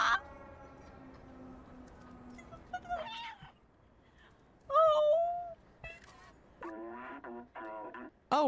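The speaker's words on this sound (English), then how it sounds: "I'll give you a cute little meow." A cat meows several times in short, tonal calls that rise and fall in pitch, separated by brief pauses over a soft background hum, in the video game Stray.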